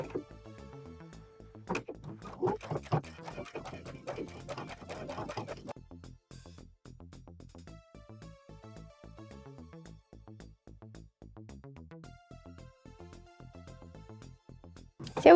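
A sewing machine stitches a pressed shirt hem with back stitches, producing a quiet, rapid, even mechanical patter that runs nearly throughout, slightly louder early on.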